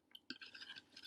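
A spoon stirs water in a glass for a dissolving experiment, giving a short burst of close, bright scraping and a faint clink, with no voices.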